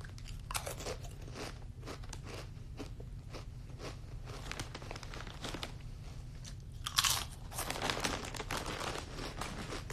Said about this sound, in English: I don't know what these are, but they look crunchy. Voodoo heat potato chips.